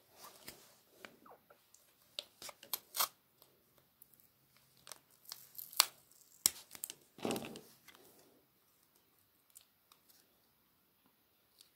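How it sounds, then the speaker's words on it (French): Quiet intermittent crackles and sharp rips of adhesive tape being pulled and torn to secure the bottom of a small box, in irregular bursts with pauses between them. "Et je mets du scotch en bas"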